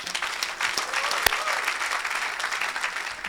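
A church congregation applauds in a steady dense wash of clapping, loud and continuous, with one sharper clap standing out and faint voices mixed in.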